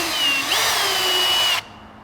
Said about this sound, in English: we're gonna go ahead and mark it carefully right on our hole and slowly drill through